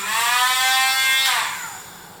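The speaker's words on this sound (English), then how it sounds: "So I'll do this side with the Dremel." A Dremel rotary tool buffs a leather saddle, giving a steady high-pitched whine that holds for over a second, then drops in pitch and fades as the tool slows, close and loud with no talk.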